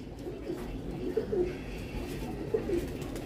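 Pigeons cooing close by, a few soft low coos in two short bursts over a steady background hum, no talking.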